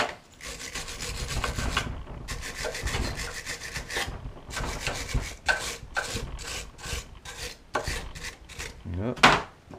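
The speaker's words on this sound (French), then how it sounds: "Petite brosse métallique." A small wire brush scrubs the exhaust pipe on a Citroën 2CV engine, a dry rasping scrape in repeated bursts of strokes with short pauses, close and fairly loud, and no talking.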